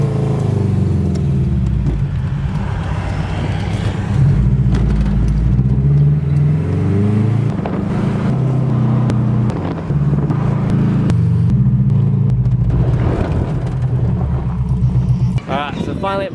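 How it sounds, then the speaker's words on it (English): Car engine droning steadily from inside a moving vehicle on a drive, low rumble continuous throughout with slight rises, while people talk over it. "We're going for a drive, so let's get it done."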